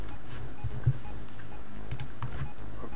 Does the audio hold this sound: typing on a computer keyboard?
yes